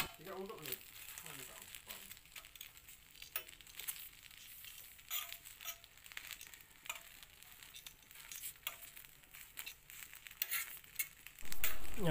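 Glutinous rice topped with fish floss grills until crisp, giving a steady close crackle and sizzle with occasional scraping, swelling louder at the end.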